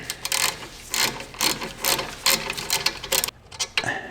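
A ratchet wrench loosens the lower rear brake caliper bolt on a 2008-2021 Dodge Grand Caravan, giving a close run of quick clicking bursts that repeat with short pauses, with no talk over it.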